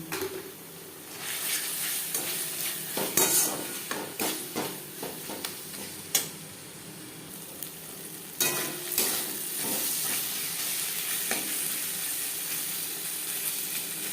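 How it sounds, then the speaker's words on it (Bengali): Spices fried with chili paste, turmeric and salt in a pan over medium flame, a steady loud sizzle broken by repeated scraping and clinking of a spatula stirring, no voices. "চার পাঁচ মিনিট মিডিয়াম ফ্লেমে মশলা কষিয়ে নেওয়ার পর"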